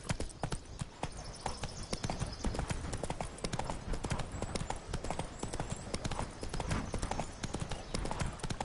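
Horse hooves trot in The Witcher 3: Blood and Wine-era Hearts of Stone game, a dense, steady clip-clop rhythm close and loud throughout, with no talk.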